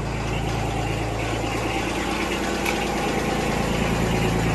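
A John Deere X758 lawn tractor engine idles close by, a steady, even low rumble with constant vibration and no talking.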